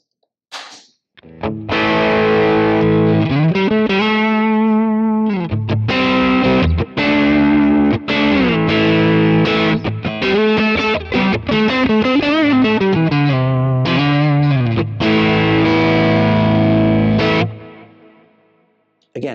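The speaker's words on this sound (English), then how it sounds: "it's adding that kind of top-end Marshall sparkle to this overdrive sound" An electric guitar plays continuous riffs and held notes through an overdrive effect with the gain turned down and the tone and volume raised, giving a bright, moderately crunchy sound that is loud and alone, ringing out at the end.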